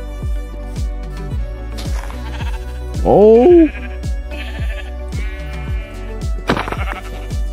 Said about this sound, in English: Sorry, little sheep. I need you.